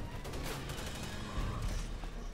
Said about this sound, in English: So Tyler, get on that gun and start shooting that thing.